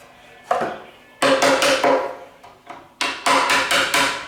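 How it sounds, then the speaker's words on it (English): A screwdriver is worked into a crack in the wood of an 1865 Forster & Andrews pipe organ, producing two bursts of close, sharp, repeated knocking and cracking sounds separated by a short pause. "We're going to open that crack up. That screwdriver will do nicely."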